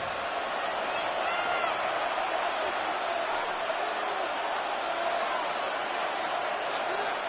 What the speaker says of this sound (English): The crowd at MetLife on their feet for third down.